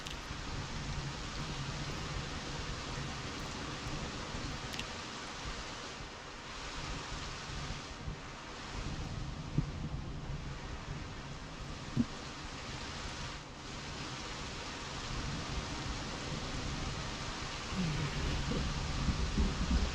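A thunderstorm in the survival game Project Zomboid: a low, steady rain hiss fills the background, with a faint thunder rumble and a few soft thumps, quiet and continuous, with no talking.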